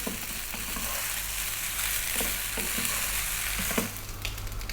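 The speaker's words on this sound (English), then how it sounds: "That is your rice frying." Steady, close-up crackling sizzle of napa cabbage fried rice in a hot pan, with occasional louder pops and scraping stirs.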